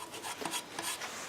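A metal file rasps back and forth across a railroad spike, working all four sides smooth, a steady series of close, gritty strokes with no talking.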